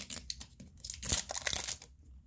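Toy packaging for an LOL Boys doll being torn open by hand, a run of sharp ripping and crinkling bursts at close range with a short pause midway, ending in quiet.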